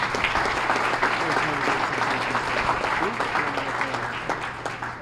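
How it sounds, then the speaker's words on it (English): Dense audience applause for award recipients at a small business awards breakfast, steady and fairly loud, gradually thinning toward the end with a few distinct claps. "Give them another round of applause."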